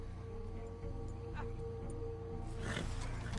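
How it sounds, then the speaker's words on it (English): A bear growls and roars during a fight in the video game Red Dead Online, with rough bursts rising over a steady low game hum and growing louder toward the end. "Bear fight."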